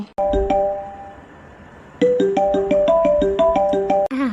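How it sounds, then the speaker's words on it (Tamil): A phone rings with a repeating electronic melody, a short burst, a pause of silence, then a longer run of the tune, loud and close with no talk over it. "ஃபோன் அடிக்குது."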